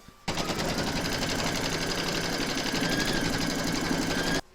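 An embroidery machine stitches an in-the-hoop stacked snowman, a steady rapid needle rattle running loud and continuous for about four seconds before stopping abruptly.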